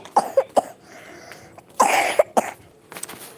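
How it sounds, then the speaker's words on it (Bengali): A person with a cold coughs several times in quick bursts, close and fairly loud, with a louder cluster of coughs midway and quieter throat sounds between. "ঠান্ডা কাশি হচ্ছে"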